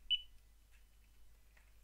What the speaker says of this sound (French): Je vais en biper l'ISBN.